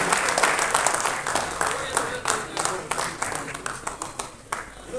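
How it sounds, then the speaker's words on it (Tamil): Scattered audience clapping at a film audio launch event as a guest is welcomed on stage; the individual claps are sharp and uneven, thinning out toward the end, with voices heard alongside them. "ஸோ ஒரு பெரிய கைத்தட்டலோட லெட்ஸ் வெல்கம் வினோத் சிவகுமார் அவர்கள்."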